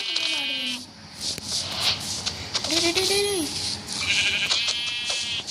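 Sheep bleating in the Minecraft video game, a few wavering bleats close up amid game sounds, with a person talking over them.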